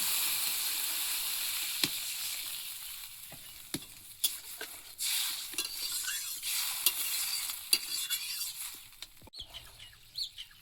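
Spinach with split green chilies sizzles steadily in a hot pan, with scattered stirring clicks and scrapes and a sharper hiss near the end as water goes in.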